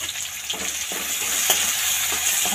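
Tomato, a pinch of hing and curry leaves frying in a pan, a steady close sizzle broken by periodic stirring clicks and scrapes, no speech.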